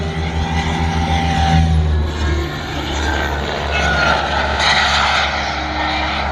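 A composite RC jet airplane flies past at an outdoor model airshow, a loud, steady turbine roar that swells as it passes and then fades with a high whine as the plane moves away.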